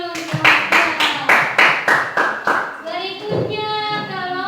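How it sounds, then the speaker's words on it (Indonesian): Classroom of middle-school students clapping for a student group after a teaching presentation, loud rhythmic unison claps in even beats for about three seconds, then children's voices chattering. "tepuk tangan dulu untuk kelompok"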